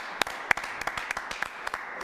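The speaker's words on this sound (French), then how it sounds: "Ça s'applaudit." An audience claps in sparse, uneven bursts, individual hand claps standing out as distinct sharp hits rather than a dense roar.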